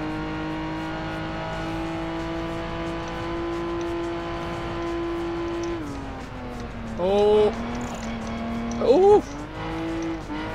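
Race car engine in Project Gotham Racing 4 holding a steady high drone, then dropping and revving up again with two short bursts of tyre squeal near the end, while a voice exclaims briefly.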